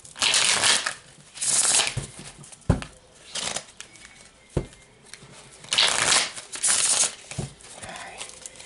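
Tarot cards being shuffled by hand: repeated bursts of riffling and slapping card noise, close and crisp, alternating with short pauses and a few sharp taps, with no speech over it.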